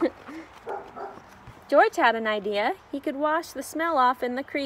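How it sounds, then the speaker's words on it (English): A dog barks and yips in the background at home, a run of short sharp calls across the second half, partly under a voice reading a children's story aloud. "Sorry if you can hear my dog in the background."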